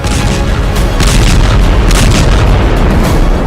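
Heavy, continuous rumbling booms from an Israeli airstrike bombing Beirut at night roll on loud and sustained, with deep low-end thunder and repeated surges across the whole stretch.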